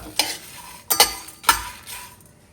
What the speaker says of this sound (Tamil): நல்லா அப்படியே பொன்னிறமா வறுக்கணும்